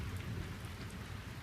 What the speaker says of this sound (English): The rain fell all night.